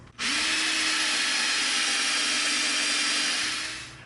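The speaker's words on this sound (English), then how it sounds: "we're going to use different drill bits, and we're going to periodically get larger till we've got the size we want." A power drill fitted with a large bit bores a hole, probably in EVA foam for a culling blade prop, giving one continuous, loud, close whine that starts abruptly, holds steady about four seconds, then winds down.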